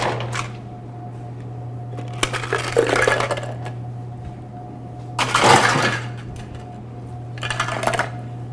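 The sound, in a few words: ice added to a whiskey sour cocktail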